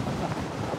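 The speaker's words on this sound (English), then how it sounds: "the wind is incredible!" Strong wind buffets the microphone high on the top of Blackpool Tower, a steady loud broadband roar with no break and no speech.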